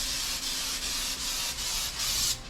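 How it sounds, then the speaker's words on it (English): Cooking spray hisses onto a baking sheet in a kitchen, a loud, close, continuous spray broken into several short bursts with brief dips between them. "I like the spray, but you can use the lard, it's great."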